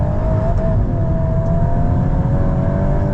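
A 2026 Volkswagen Golf R's 2-litre turbo engine drones steadily and loudly from inside the cabin on a test drive, holding a sustained revving tone with no one speaking.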